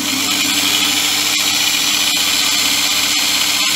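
A grinder mounted on a lathe tailstock runs loud and continuous for tangent grinding, a steady high-pitched whine and roar with a few brief dips and clicks near the end.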